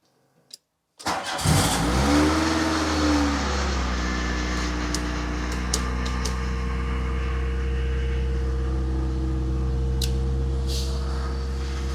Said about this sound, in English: So, with the engine running